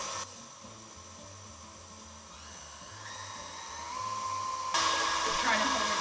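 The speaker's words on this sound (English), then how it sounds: "To the mixer, I'm gonna go ahead and add in 1 teaspoon of vanilla. Give that a final mix." A stand mixer whirs through batter after a spoonful of vanilla goes in, a steady high motor whine that builds in speed and brightens sharply near the end, close and constant, with no talking over it.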